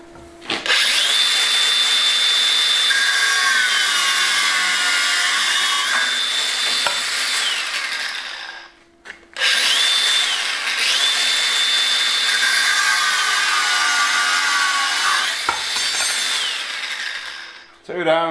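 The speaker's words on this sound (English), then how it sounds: "I'm just going to stick them in the vise and cut firm with the old angle grinder" An angle grinder cuts through rods clamped in a vise, giving two long, loud, steady high-pitched whining cuts with a brief pause between them as the disc spins up and winds down.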